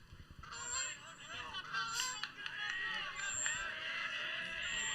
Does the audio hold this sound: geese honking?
yes